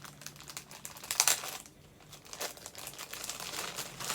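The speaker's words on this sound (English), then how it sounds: "there's going to be some crinkling" Plastic packaging crinkles and rustles as skeins of Knit Circus Yarns Greatest of Ease yarn are grabbed, a close, scratchy crumpling that swells around the middle and continues in irregular bursts.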